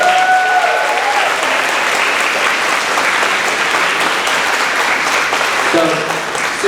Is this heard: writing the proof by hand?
no